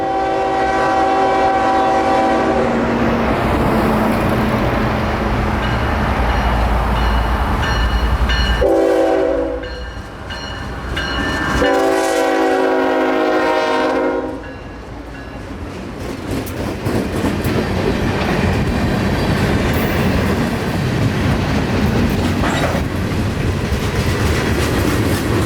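Freight train Q442 rolling past through a siding between Tampa and Lakeland, Florida, with loud sustained horn blasts and continuous clickety-clack of wagons close by.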